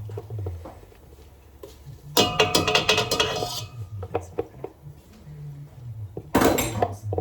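A wooden spoon scraping tomato and garlic out against a metal pot, bursts of rapid clattering scrapes and knocks separated by quieter handling, close and fairly loud, with brief talk in the background.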